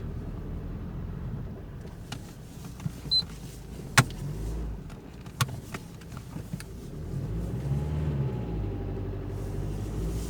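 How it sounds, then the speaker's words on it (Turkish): An Opel Astra H pulls away in first gear after a power-loss fault was fixed. A steady low engine rumble from inside the car carries a few sharp clicks and knocks, with a faint rising whine toward the end. "şu an birinci viteste kalkıyoruz"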